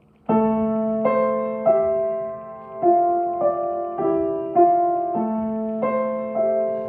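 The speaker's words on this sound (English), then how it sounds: "And it sounds like this, which is a flute solo." A solo flute plays a slow, gentle melody of sustained notes from Rachmaninoff's Second Piano Concerto, each clearly separated, with no accompaniment or voices.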